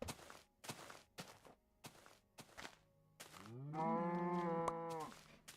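A cow in a video game lets out one long, loud, drawn-out moo, following a series of soft thumping footsteps and clicks.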